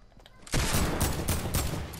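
Dense burst of Fortnite gunfire erupts after a quiet half-second, a sustained rapid fusillade of overlapping shots that stays loud and close to the end.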